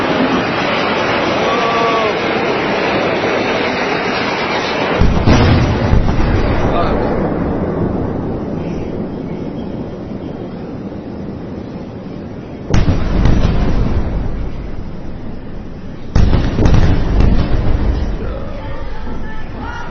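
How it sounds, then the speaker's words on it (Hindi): Missiles fired from Gaza toward Israel produce a continuous rumble with sharp explosive bursts recurring every few seconds, heard at a distance under a loud, noisy wash. "खतरनाक मिसाइलें गाजा की तरफ से इजराइल की तरफ"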